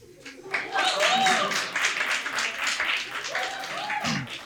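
An audience at a stand-up comedy show claps steadily for several seconds, a dense patter of hands under a voice that keeps talking over it.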